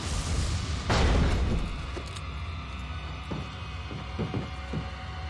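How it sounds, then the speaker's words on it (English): Grenade blast at a bridge in Resident Evil 4, a heavy booming explosion near the start that rolls into a low rumble, followed by fainter thuds and mechanical clatter. "toss a grenade at the bridge"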